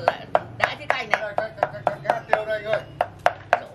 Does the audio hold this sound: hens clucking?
no